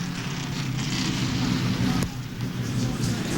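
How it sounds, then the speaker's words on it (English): Heavy rain pours down on a NASCAR race track, a steady dense hiss of falling water with low rumble beneath, fairly loud and continuous throughout. "And you can see it is raining pretty doggone hard."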